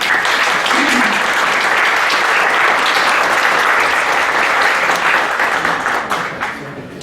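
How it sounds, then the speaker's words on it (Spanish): A strong, sustained round of applause from an audience at a round-table discussion on gender equity, dense and even for most of the stretch before gradually fading near the end. "nos acompaña la maestra Olivia Veiga Ortega, para quien pido un fuerte aplauso."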